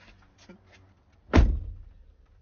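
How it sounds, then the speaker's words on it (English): A door slams once in a played video clip, a sharp, loud thud that rings briefly and fades, after a few quiet faint sounds. "he slams the door"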